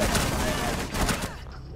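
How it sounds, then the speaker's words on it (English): Rapid bursts of gunfire in the tactical shooter Rainbow Six Siege ring out in a dense, continuous barrage that cuts off abruptly near the end, with game chatter mixed underneath. "You turned around shooting so fast!"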